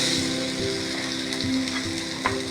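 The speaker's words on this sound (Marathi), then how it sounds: "आता मी अद्रक समारचे 2 चमचे पेस्ट टाकत आहे" Two spoonfuls of ginger paste hit a hot pan for an egg curry, a close, steady sizzle with a few light stirring taps and a brief knock near the end.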